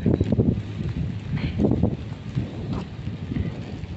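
Steady rain from Typhoon Saola with gusty wind buffeting the microphone, a continuous rumbling wash with louder bursts, no voices.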